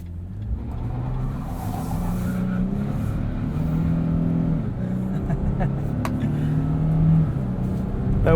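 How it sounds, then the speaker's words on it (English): A 2022 Nissan Frontier SV 4WD crew cab with traction control disabled and an open rear differential accelerates hard, its engine droning steadily and rising as one rear wheel spins, the sound continuous and close throughout. "with the open rear differential, we get a lot of one wheel peel action"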